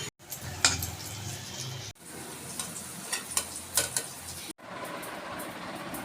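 Spices tempering in hot oil for an Odia cabbage dish, a steady close sizzle with stirring scrapes and brief clinks, broken by short pauses.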